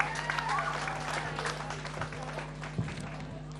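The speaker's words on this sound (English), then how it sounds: "Please give her a round of applause." Audience applause at the Hiri Moale Festival quiz contest, a crowd clapping steadily at close range over a constant electrical hum from the sound system, with some voices and cheers mixed in.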